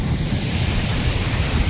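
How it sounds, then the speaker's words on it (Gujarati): Cold wind blowing at Jannat Beach near Porbandar, a dense, unbroken roar buffeting the microphone, likely mixed with surf. "અત્યારે પવન સારો છે, ઠંડો ઠંડો હાલે છે."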